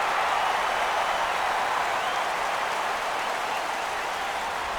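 A simulated baseball stadium crowd in MLB 15 The Show on PS4, Miami Marlins at Tampa Bay, gets on its feet for a full count. A dense, steady roar of cheering and clapping holds throughout.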